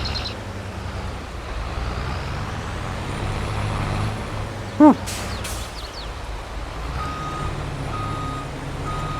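Reversing beeper on a truck backing into a shed in Farming Simulator 22, a steady series of faint evenly spaced beeps over constant engine rumble, with a brief sharp hiss partway through.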